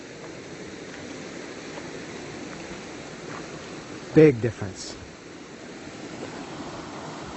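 River water rushes steadily in the background at a swimming hole in Agua Salada, Morelos, with a brief burst of talk partway through.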